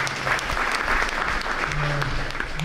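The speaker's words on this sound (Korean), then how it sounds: "축하의 박수를 드리겠습니다" Audience applause at a Myongji University honorary doctorate ceremony, a short, close burst of dense, sustained clapping from a seated crowd.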